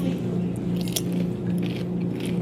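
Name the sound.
biting into a crunchy egg roll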